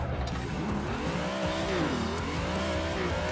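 A car drifting in a racing simulator game gives a continuous loud engine drone whose pitch rises and falls through the slide, with tire noise layered over it and no pauses.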